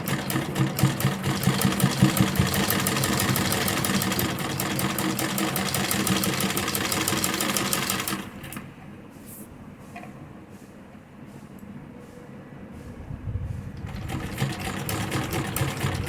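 Sewing machine running steadily while stitching black lace along the edge of a fabric neckline, a continuous loud mechanical whir that drops to a quieter pause midway before resuming.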